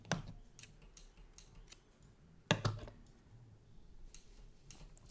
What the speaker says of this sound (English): I'm going to cut our yarn.